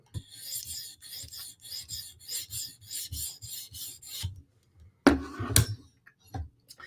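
Steel knife blade drawn across a sharpening stone in one more pass to reduce the burr: a steady series of rasping strokes in even rhythm, close and moderately loud, then a pause and a few sharper scrapes near the end with no talking.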